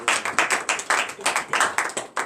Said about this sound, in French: Donnez l'acclamation à l'Éternel